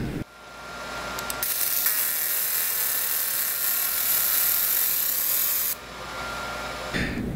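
A laser marking machine fills a logo with a single 45-degree hatch, producing a steady, loud, airy whine and hiss that runs for several seconds before cutting off abruptly, with a faint mechanical ticking near the start.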